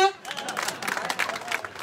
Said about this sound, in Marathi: वा वा वा, टाळ्या वाजवा.